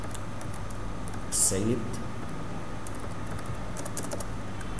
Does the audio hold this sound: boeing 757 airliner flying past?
no